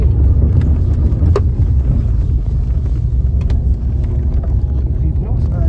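A car engine rumbles steadily from inside the vehicle as it climbs and turns on a winding hill road, with low road noise throughout.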